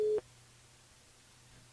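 A brief electronic telephone line tone at the start of a call to a radio listener, cut off after a fraction of a second and followed by quiet line hiss.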